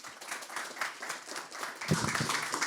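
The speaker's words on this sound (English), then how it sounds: "If we have a big round of applause, please, for Alex." A conference audience applauds as a presenter is welcomed to the stage, a steady, moderately loud patter of many hands clapping at once, with a slightly heavier burst near the end.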